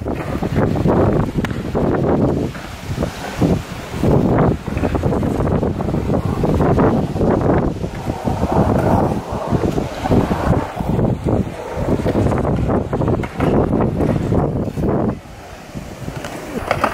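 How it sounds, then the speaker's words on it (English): Strong wind roars and buffets the microphone continuously at an outdoor festival in Sweden, with loud gusting bursts throughout and no clear voices. "Scared. It's very windy."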